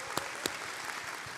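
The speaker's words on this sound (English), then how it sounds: "Let's clap for her for that." A studio audience applauds during a talk show, a short burst of steady clapping with a couple of sharper claps standing out.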